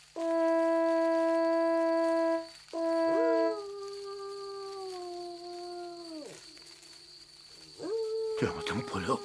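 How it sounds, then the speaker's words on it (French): A wolf howls in a French animated tale of a goat in the mountains, with long sustained wavering tones that rise and fall over several seconds, loud and close, followed by a brief howl near the end. "Le loup n'est pas loin."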